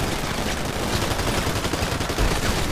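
Dense gunfire from a GTA 5 roleplay shootout outside a Fleeca bank, a continuous loud barrage of overlapping shots with no pauses and no voices.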